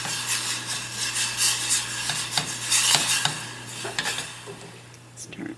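A utensil scrapes and stirs repeatedly through four ounces of butter melting in a pot for Skittles popcorn, rhythmic rasping strokes over a soft sizzle, close and without talking.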